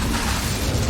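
A fire spell, Incendio, cast in the video game Hogwarts Legacy, giving a dense, rumbling burst of flame that fills the brief moment loudly and steadily, with no voices over it.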